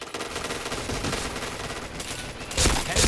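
Sustained automatic gunfire in the shooter game PointBlank, a continuous loud rattle of rapid shots that swells into heavier bursts near the end.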